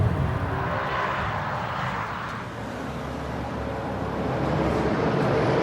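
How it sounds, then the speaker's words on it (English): A BMW M5 E60 engine revs hard through a gear change, producing a loud, continuous roar that holds steady across the whole stretch with no one speaking. "Select 3rd gear, build up the revs, up, lift, woof, through it goes"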